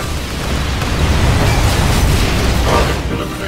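Fuel tanker blowing up in Transformers Revenge of the Fallen, a loud, dense explosive roar with rumbling low end that stays sustained and heavy across several seconds.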